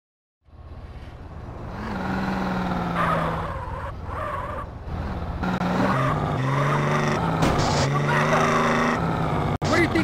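A lowrider in GTA San Andreas revs and drives, its engine droning loud and close with rising and falling pitch as it accelerates, tires squealing at moments, while voices talk over it.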